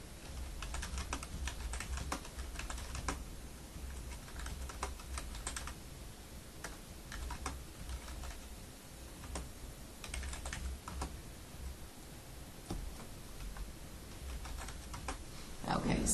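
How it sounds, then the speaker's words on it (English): Computer keyboard typing runs steadily in quick, uneven bursts of clicks throughout, fairly close and alone, with a low background hum and no talking. "We'll just type over it here so that we can keep moving."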